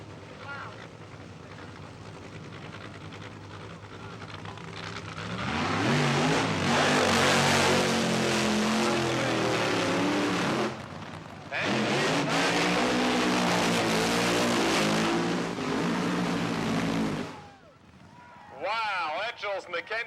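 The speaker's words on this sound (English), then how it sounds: "Ladies and gentlemen, here come the nitro cars." Nitro drag racing cars fire up at the Castrol Can-Am Nationals, loud roaring engines rising and holding for several seconds, dropping briefly, then roaring again before cutting off, with a crowd announcer heard at times.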